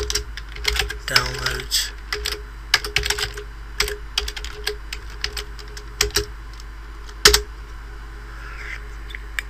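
Clicks and taps from a computer keyboard on a Windows XP machine, coming in irregular bursts of keystrokes close up, with a brief spoken word partway through.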